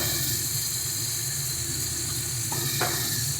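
Ground turmeric and dried chilli powder fry with garlic, ginger and green chilli pastes in a pan for a rohu fish and tomato curry, a dense, even sizzle with a couple of faint knocks near the end.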